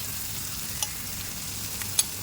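Onion and capsicum sauté with garlic and chili in a hot pan, giving a soft, steady sizzle. A few light clicks of stirring sound through it.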